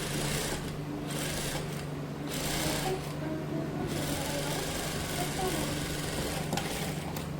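An electric sewing machine runs in a steady, continuous whir as it stitches along the bottom hem of a puff sleeve, the motor drone holding close and even throughout.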